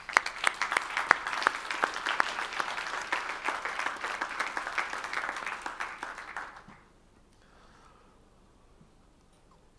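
Conference audience giving a round of applause, dense sustained clapping from a large crowd for about six seconds, then cutting off to near quiet.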